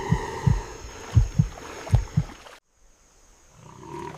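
Deep, thudding heartbeat of a waterbuck fleeing a lion, beating in quick double pulses three or four times, loud and close, then stopping abruptly into near silence.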